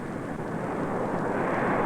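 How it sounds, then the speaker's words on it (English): A Douglas DC-8-12 jet airliner begins its takeoff roll, its four jet engines producing a loud, steady, broadband roar that swells gradually with no talking over it. "The captain pushes the throttle, and the big jet starts off."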